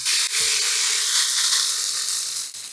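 Tofu sizzles in hot oil in a frying pan, a bright steady hiss with faint crackles that holds throughout, close and moderately loud, with a brief soft knock near the start.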